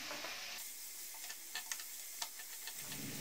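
Ground spices roasting in a pan over a low gas flame for Punjabi baingan bharta give a soft, steady sizzle broken by a few sharp spoon scrapes and taps, close and quiet, with no voices.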